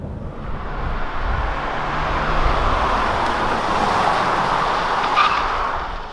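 A Kia Sedona 2.2 diesel minivan drives along, its engine and road noise forming a steady, fairly loud rumble and roar.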